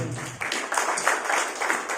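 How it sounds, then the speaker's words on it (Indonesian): A church congregation claps during a worship service, producing steady, fairly loud clapping in brief rhythmic surges that lasts a couple of seconds. "Mari tepuk tangan bagi Tuhan."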